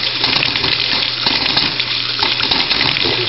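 Water and trapped air sputter and gush out of an electric water heater tank as it is flushed, pushing rust through in a loud, steady turbulent flow with irregular spurts.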